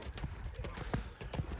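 A black-legged horse walks with steady clip-clopping hooves, each strike distinct and fairly close, someone talking over the footfalls outdoors.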